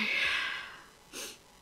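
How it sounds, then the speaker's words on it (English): A person sniffs twice, close and breathy: a longer draw through the nose, then a quick short one after a brief pause. "Okay, now I'm sniffing."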